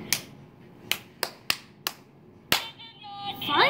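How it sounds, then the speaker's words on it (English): A child claps hands to set off a toy, six sharp separate claps at uneven intervals, near and fairly loud, followed by a short burst of bright electronic toy tones at the end. "Actually, I clapped."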